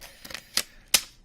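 Scissors snip through plastic trading card packaging, a few sharp, close clicks and crisp cuts spaced irregularly in a quiet room.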